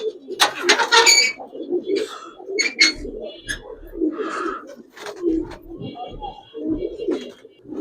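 Giribaz and coloring pigeons coo at a sale, low throaty calls repeating close by while people talk over them and a few sharper chirps break through.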